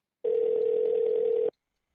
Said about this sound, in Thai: นนหยิบโทรศัพท์มือถือขึ้นมาและโทรไปหาศักเป็นคนแรก